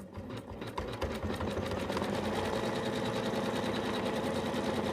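An in-the-hoop embroidery machine stitches a Santa bib in a rapid, steady mechanical chatter, close and loud, with no talk.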